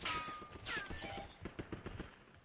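An LMG firing in Black Ops 6 is heard as a quick run of rattling shots in a rhythmic burst, faint and distant-sounding, with a brief whine and crackle near the start.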